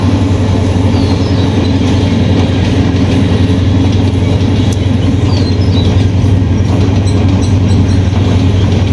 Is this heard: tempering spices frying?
no